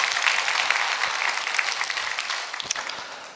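A church congregation claps for a missionary serving in Japan, a dense, even patter of many hands that stays steady and fairly close throughout the few seconds, fading slightly toward the end.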